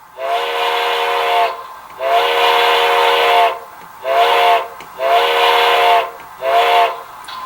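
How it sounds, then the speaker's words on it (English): Steam whistle of an HO scale Bachmann Spectrum 2-8-0 model locomotive with DCC sound, sounding as a pattern of breathy chime blasts, two long then three shorter, loud and near with no other sounds. "Number 2 is a long whistle."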